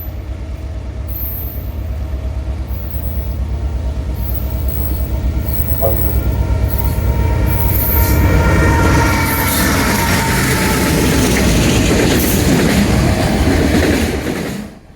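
CSX M216, a northbound auto rack train, rolls past close by in a loud sustained roar of wheels and rattling cars, with rhythmic clatter building midway and a faint voice underneath before it drops away at the end.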